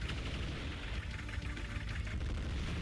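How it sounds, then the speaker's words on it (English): Steady, dense gunfire from a unit attack in Advance Wars: Days of Ruin, a sustained crackling barrage of rapid shots at a constant level with no talk over it. "Well, I'll shoot it."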